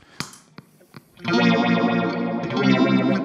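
Electric guitar through an Electro-Harmonix phaser pedal, a Small Stone or Bad Stone with a fairly dry effect level: a few muted string taps, then a sustained swirling, sweeping chord rings out loud and close.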